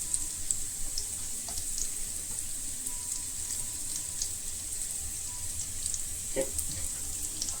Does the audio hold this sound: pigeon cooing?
no